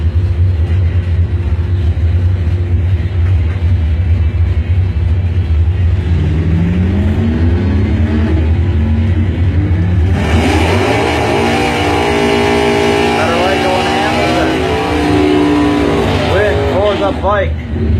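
Race cars, a Monte Carlo and a Kawasaki, roaring around an oval track in a dirt-track style heat, engines droning loudly and rising in pitch as they accelerate, with an announcer talking over the noise.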